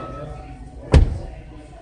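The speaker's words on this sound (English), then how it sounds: "Can you close that door?" A single solid thump as the door of a 2018-2019 Hyundai Santa Fe is pushed shut, a short loud slam standing out from quiet cabin background.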